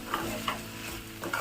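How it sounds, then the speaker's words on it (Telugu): Broad beans (chikkudukaya) cooking in oil are stirred in a pan, giving several close scraping strokes over a soft background sizzle. "మధ్యలో ఇలా ఇలా కలుపుకుంటూ ఉండాలండి"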